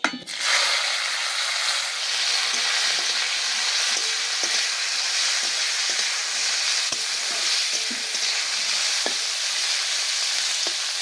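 Steamed beans dropped into hot mustard oil with dried red chillies and whole mustard seeds in a kadai, starting with a burst and then a loud, steady, close sizzle that runs throughout with small pops.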